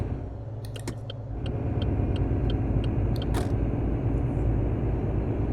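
A Ford F-MAX truck in Euro Truck Simulator 2 idles and then its engine rumbles up to a steady, loud, deep drone, with a few sharp clicks and rattles in the cab near the start.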